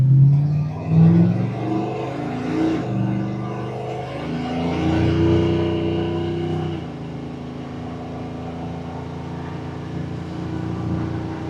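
LS3-swapped square body truck on 26-inch wheels cruising at speed, its V8 engine droning and rising in pitch through the first seconds before settling into a steady, loud rumble.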